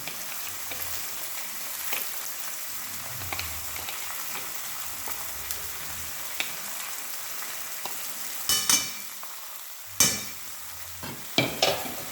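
Ground spice paste sizzling in hot oil for a chicken and potato curry, a continuous soft frying hiss broken by a few sharp scraping clatters of a spatula near the end.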